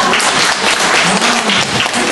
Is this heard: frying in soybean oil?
no